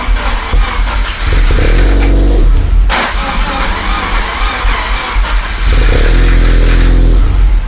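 A 13B rotary engine swapped into a Subaru BRZ catches on first start-up and revs hard, surging and dropping in bursts with a rough, buzzing tone, close by and without voices, not settling to idle.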